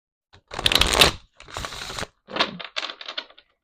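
Tarot cards being shuffled in several quick riffling bursts, close and crisp, with short pauses between each shuffle.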